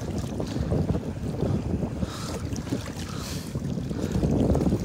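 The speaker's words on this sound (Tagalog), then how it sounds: "Lakas ng hangin." Strong wind blasts across the open sea around a small fishing boat, a loud steady roar of buffeting gusts against the microphone with water noise underneath.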